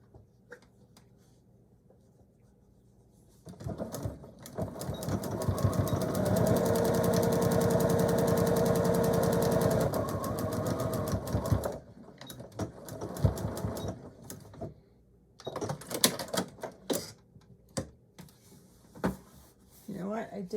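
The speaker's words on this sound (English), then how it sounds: "And I'm going to stitch that down." A sewing machine stitches down a pen holder pocket for a handbag organizer, running in a steady, rapid mechanical whir for several seconds, then stopping and giving way to scattered handling clicks and fabric rustle as a person talks.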